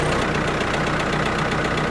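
A Ford 655A backhoe's diesel engine running at a steady idle, a loud continuous rumble with an even knocking pulse close by and no voices.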